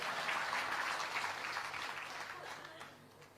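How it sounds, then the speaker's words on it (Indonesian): Audience applause at a church talk, a moderate wash of clapping that begins fairly full and gradually thins and softens over a few seconds, with no speech on top. "Tepuk tangan dulu."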